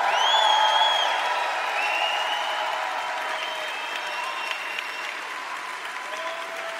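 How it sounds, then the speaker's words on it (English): A large audience applauds continuously, dense steady clapping that starts loud and eases slightly over several seconds, with faint scattered voices mixed in. "Everybody give a big, big, big, big, big, big, big round of applause to all of your diamonds."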